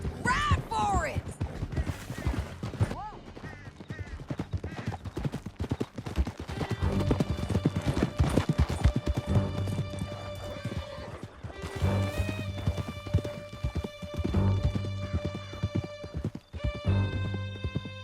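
Horses gallop in Red Dead Redemption 2 with a steady, loud clip-clop of hooves, occasional whinnies and neighs, and music and voices running over the hoofbeats throughout.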